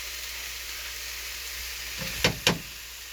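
Coconut milk poured into a pot of jackfruit, setting off a steady, close sizzle with a couple of brief stirring knocks near the end.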